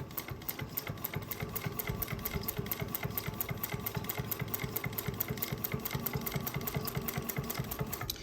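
A Juki 1541S walking-foot sewing machine stitches suede onto cotton fabric, running steadily at close range with a fast, even mechanical rhythm throughout.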